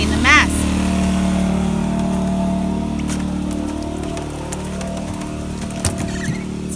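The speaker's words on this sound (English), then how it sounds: "Got the generator going because I've been vacuuming the mess." A generator runs at an off-grid home, giving a steady low engine drone with a constant hum throughout, while a person talks over it.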